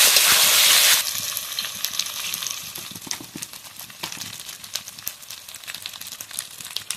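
Spices fry with ginger-garlic paste in a pan, starting with a loud hiss that drops after a second into a quieter, crackling sizzle with scattered sharp pops and stirring scrapes.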